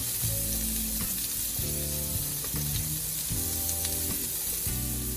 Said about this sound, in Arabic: نقلي البصل هون